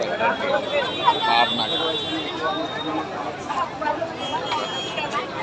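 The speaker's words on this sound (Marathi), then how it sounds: "अशा प्रमाणामध्ये इथे गर्दी आहे." Devotees crowd the Shri Swami Samarth temple, filling the space with a steady, close hubbub of many overlapping voices and chatter, with no single voice standing out.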